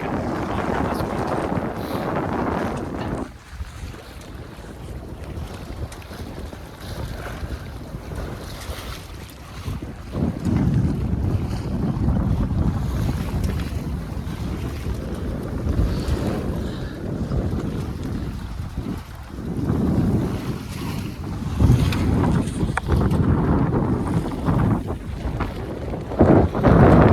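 Wind buffets a 24 foot San Juan sailboat out on open water, a steady loud rush of air over the microphone with swelling gusts, mixed with waves and hull wash, and no talking.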